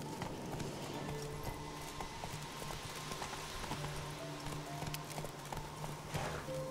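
Horse hooves clip-clop in Witcher 3, a steady rapid drumming of a galloping mare heard fairly quietly and continuously, with faint voice moments mixed in.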